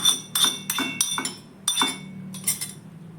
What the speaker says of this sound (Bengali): ঠান্ডা হয়ে যাওয়ার পর মিক্সিং জারের মধ্যে আমি সবটাই দিয়ে দিচ্ছি